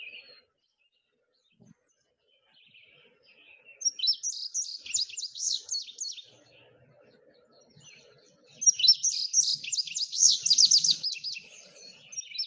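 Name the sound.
indigo bunting song with red-eyed vireo in background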